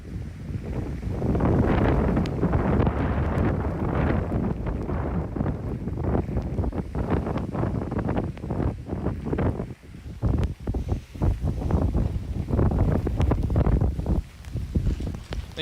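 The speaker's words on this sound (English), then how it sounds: "the wind's really picking up now" Hurricane Helene's winds roar and gust hard at landfall on the Florida coast, buffeting the microphone with loud, continuous rushing and brief lulls throughout.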